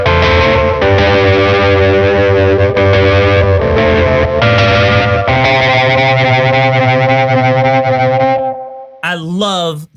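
Low-gain lo-fi electric guitar played through an Empress Effects pedal with tape delay and distortion, the lows and mids cut, gives sustained chords with a warbling, echoing edge, loud and close, ending in a brief pitch-bending swirl.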